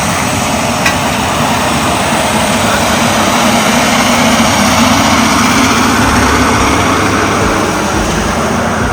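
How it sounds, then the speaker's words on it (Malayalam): A plane takes off from Lukla airport in Nepal, heard as a steady, loud engine roar that holds for the whole stretch, with no talk over it. "ഫ്ലൈറ്റ് ടേക്ക് ഓഫ് ചെയ്തു."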